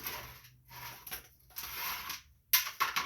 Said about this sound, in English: We're just going to take them screws off, slide that out of the way